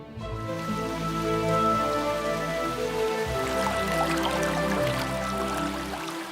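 Rain falls steadily over a forest in Germany's rainy Bergisches Land, a soft, even hiss of drops landing on leaves and ground. It stays fairly quiet and continuous throughout, with no voices.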